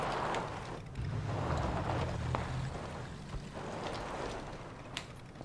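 A car engine driving in the battle royale game PUBG, a steady low rumbling drone that surges briefly and then holds under wind-like noise, moderately distant.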